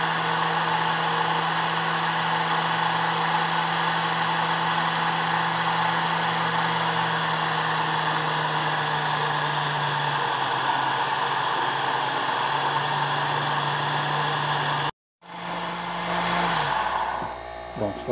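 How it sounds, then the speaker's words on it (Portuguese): A steady electric drill whines at constant speed while boring a second hole during construction of a homemade electric scraping tool, running without a break until it cuts out abruptly, then briefly restarts. "Já posicionei a broca para fazer o segundo furo."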